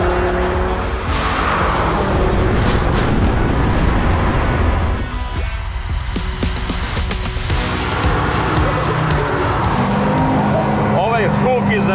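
A KTM X-Bow GT-XR race car with a turbocharged Audi 2.5-litre five-cylinder engine roars loudly on a road test, with engine rising and falling and tyres squealing, while someone talks over the noise.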